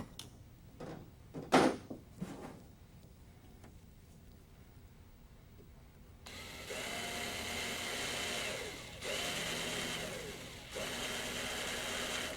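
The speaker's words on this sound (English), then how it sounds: "Use a unibit to drill the cleco holes" A drill with a unibit bores cleco holes in a helicopter windscreen for a Rotorway Exec 162F kit. A few short knocks come first, then a steady whirring drill in several sustained bursts, close up.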